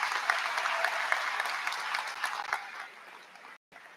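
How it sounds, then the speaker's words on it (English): A high school commencement audience applauds a valedictorian, dense steady clapping that fades near the end and cuts out abruptly for a moment. "Please give her a big round of applause."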